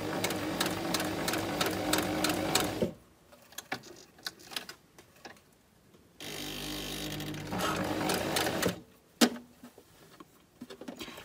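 Sewing machine stitching tulle and lace for a doll's petticoat, running in two bursts of fast, even mechanical rattling that stop and start, with quieter pauses and handling noise between them.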